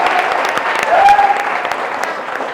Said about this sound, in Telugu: గట్టిగా చప్పట్లు కొట్టాలి మా తమ్ముళ్ళందరికీ